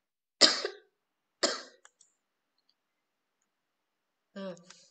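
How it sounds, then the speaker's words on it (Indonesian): Two sharp, close coughs about a second apart, followed by a few small clicks and a brief vocal sound near the end. "saya batuk dulu."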